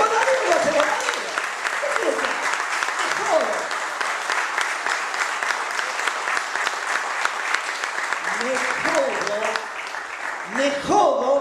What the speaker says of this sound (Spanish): ustedes lo aplauden de pie y es extraordinario